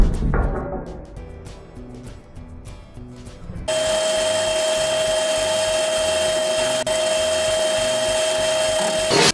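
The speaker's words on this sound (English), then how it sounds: "so I'm going to drill" A power drill whines steadily at close range, drilling parts for a small 2-ton hydraulic press, after a few seconds of softer tapping and handling, running continuously to the end with a high, even tone.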